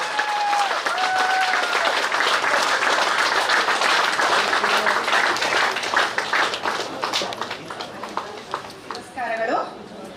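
Sustained audience applause at a festival, dense clapping from a crowd that thins and tapers toward the end, with a voice speaking over it.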